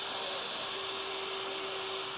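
A power drill drives fasteners into a Smart Stacks compost bin under construction, a continuous close, loud whine with a steady pitch held throughout and no speech.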